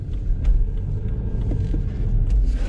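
A BMW 320d xDrive M Sport Touring estate brakes and shifts straight into reverse, heard as a steady low engine rumble with a few faint clicks and squeaks, no voices.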